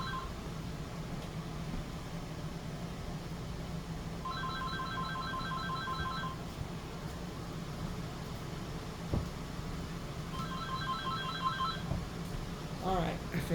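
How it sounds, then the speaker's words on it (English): A phone rings in two bursts of rapid electronic trills, separated by a pause, over steady background noise and a low hum. "the phone is ringing"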